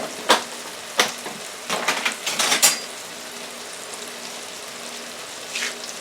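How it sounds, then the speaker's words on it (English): Cooked rice going into a pan of hot oil, several sharp sizzling bursts and clinks of pan and utensil, then a quiet fizzing background with a faint later sizzle. "Now I'm going to add my rice."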